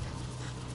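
Tilley, a seven-month-old dog tired out from ball throwing, pants in a steady, close, fairly quiet rhythm of quick breaths with no voices.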